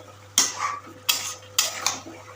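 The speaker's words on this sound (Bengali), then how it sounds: "আলুগুলো যাচ্ছে, ভাজা আলুগুলো চলে গেল, নাড়িয়ে দেওয়া হবে।" A metal spatula scrapes and clanks against a pan as fried potatoes are stirred into chicken curry, three or four sharp separate strokes close by with no talk.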